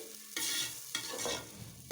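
Ground tomatoes and spices hit hot oil in a pan, giving two or three sharp bursts of sizzling that hiss and then fade, close and quiet, with no talking.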